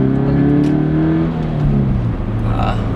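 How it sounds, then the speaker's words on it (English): A car pulling hard in second gear, engine note climbing steadily as it accelerates, loud and close for about three seconds with a brief dip midway; the car is fitted with aftermarket modifications such as headers. "Little second gear pull"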